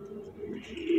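A brief, soft cooing from pigeons, heard close and faint, with a slightly louder coo at the end.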